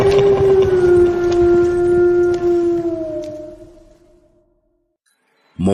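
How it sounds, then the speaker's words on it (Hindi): Wolves howl in long, sustained, wavering tones that slowly fall and fade out over several seconds, loud and close, followed by silence and a brief sharp noise at the end. "ये तो भेड़ियों की आवाज है।"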